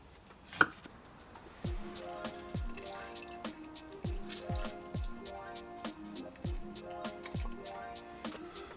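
A knife cuts clementines in half for a turkey brine, landing as a steady run of crisp, close chops on a board, roughly every half second, with small juicy squelches between strokes.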